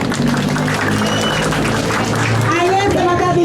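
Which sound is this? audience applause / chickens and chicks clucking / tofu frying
audience applause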